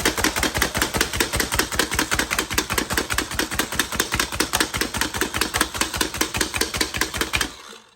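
A fast, steady run of sharp chops, likely a blade on a cutting board, rings out as vegetables are diced for guacamole. The knocks come close and rhythmic for several seconds, then stop abruptly, with no talking.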